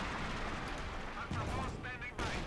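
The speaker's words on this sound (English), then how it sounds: "They are firing down there." Gunfire and artillery from a Company of Heroes 2 World War II strategy battle crackle at a moderate level, with scattered shots and bursts under a steady rumble, while a voice talks over the fighting.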